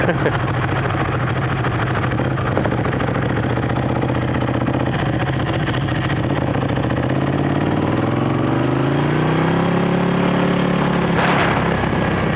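A Ducati 1199 Panigale motorcycle engine runs steadily and loud, a little rough just off idle, with the pitch rising and falling across several throttle blips near the end.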